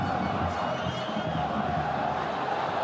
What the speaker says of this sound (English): it's got the crowd going again anyway